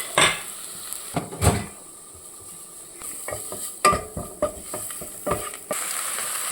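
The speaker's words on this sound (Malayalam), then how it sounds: "ഒരു കളർ ചേഞ്ച് വരുമ്പോൾ അതിൽ സോയയും കൂടി ചേർത്ത് വഴറ്റാം" Soya chunks with onion sautéing in a pan: soft sizzling under intermittent scraping and clinks of a utensil stirring against the metal, close and moderately loud.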